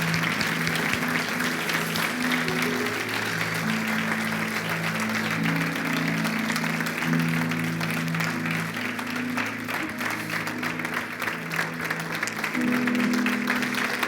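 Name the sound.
applause from church congregation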